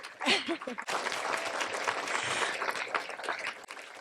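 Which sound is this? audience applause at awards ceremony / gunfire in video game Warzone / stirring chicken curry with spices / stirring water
audience applause at awards ceremony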